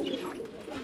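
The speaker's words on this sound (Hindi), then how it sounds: "खोल दिए कबूतर भी सारे हमने" Soft, low cooing of pigeons let out of a large birdcage, a brief murmuring call close by.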